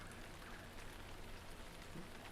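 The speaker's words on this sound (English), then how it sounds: "I'm standing in the middle of the swamp while it's raining." Rain falling in a swamp in the video game Lord of the Rings Online, a soft, even hiss of steady rainfall with no other sounds standing out.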